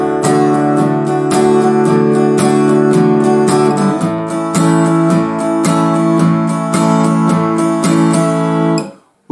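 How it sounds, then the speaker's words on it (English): A 1950s rock 'n' roll guitar strums 'Ain't That a Shame' in an even, straight rhythm, with evenly spaced loud chord strokes and no voices until the sound stops abruptly near the end. "if I was to play this song with a straight rhythm,"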